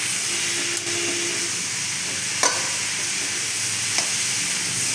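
Mushrooms fried in a pan for a masala fry, giving a loud, steady hissing sizzle with a few brief clicks of stirring, and no one speaking.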